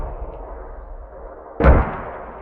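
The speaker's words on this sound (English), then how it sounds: "It's going to be a mortar attack here, back and forth." A single loud mortar blast erupts in a military shooter game, a sharp booming thump that cuts through steady low background rumble and fades over about a second.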